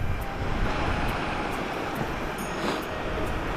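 Waterfall beside a narrow trail on the Kedarnath–Badrinath pilgrimage route, heard as a steady, loud broadband rush of falling water with wind-like hiss, continuous throughout with no talking.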